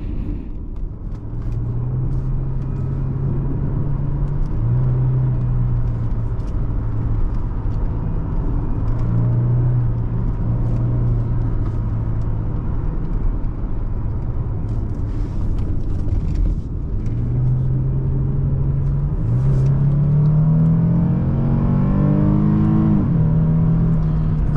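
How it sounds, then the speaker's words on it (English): 2007 Lexus GS350 AWD engine accelerating on a test drive, a steady rumbling drone whose pitch climbs in repeated stretches as the revs rise through the gears, with road noise underneath and no talk. "And I love the way the engine here spins out."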